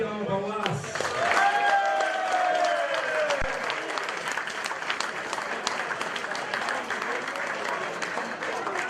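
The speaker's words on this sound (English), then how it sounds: "give him a great applause" A crowd at a Belgian national racing championship awards ceremony applauds the top Belgian driver, steady clapping and crowd noise under a brief announcer voice and a swelling tone at the start.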